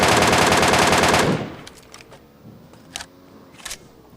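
An MK rifle fires in a PUBG match: a loud, rapid burst of shots for just over a second, then a quieter stretch with a few light clicks and taps.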